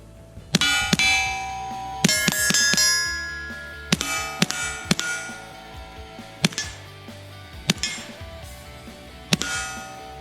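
A Kel-Tec CP33 .22 pistol fires at a paint can: a quick string of sharp shots with metallic clangs, some in close bursts and others spaced out, each ringing briefly, with no talking.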